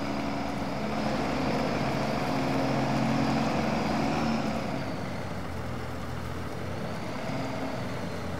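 A truck in Farming Simulator drives at speed along a road, giving a steady, loud engine roar with a lower, rougher tone taking over partway through; no talking.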